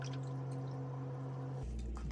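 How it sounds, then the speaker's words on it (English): Cold water poured from a container into hot ginger tea, a soft close trickle and drip that runs steadily for about two seconds with no talking. "And add cold water a little bit."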